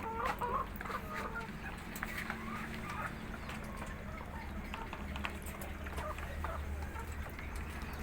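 Laying hens cluck steadily close by, several birds overlapping over a constant low background hum, with no talking.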